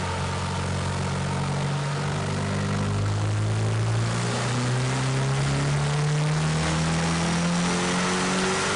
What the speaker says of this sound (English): we'll make another pull on the dyno